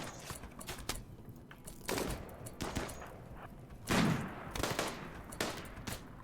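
A few scattered gunshots from a RimWorld battle on a tomb world, sharp isolated cracks spread irregularly across the stretch at low volume, with no talk over them.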